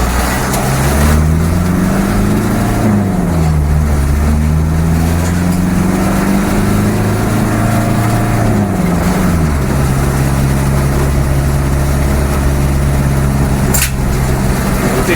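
Land Rover Defender with a naturally aspirated 2.5 engine on a drive, a loud, steady low drone that rises and falls in pitch as it revs, with road and wind noise throughout.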